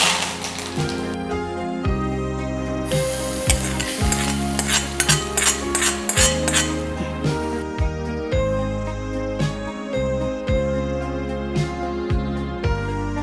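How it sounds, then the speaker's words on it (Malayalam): Mustard seeds splutter and sizzle in hot oil while tempering a snake gourd chammanthi, a steady frying crackle that swells mid-clip beneath loud background music. "ഒരു സ്മോൾ സ്പൂണിൽ കടുകിട്ടു കടുക് പൊട്ടി വരുമ്പോൾ അടുപ്പ് ഓഫാക്കുക"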